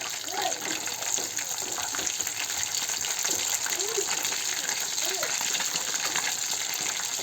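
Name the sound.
small fish frying in oil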